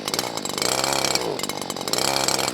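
A brand-new gas string trimmer engine running, a loud buzzing two-stroke drone that revs up and down in waves, close to the microphone.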